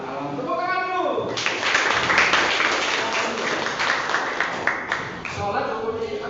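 Classroom students applaud with a burst of dense, steady hand clapping lasting several seconds, with a teacher's voice talking just before and after.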